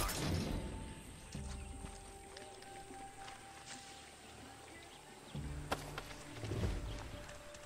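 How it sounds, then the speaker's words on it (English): Horse hooves clip-clop in the Far Cry 6 video game, a faint irregular patter of steps amid game ambience and occasional low rumbles. "look at the horse."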